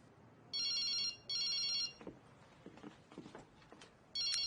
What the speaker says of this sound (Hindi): सुजाना, तुम फोन नहीं उठाओगी।